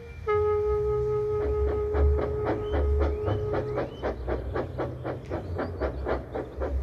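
A steam locomotive shunting trucks chuffs in a steady, regular rhythm of puffs while a whistle sounds over the first few seconds, with low rumbling underneath.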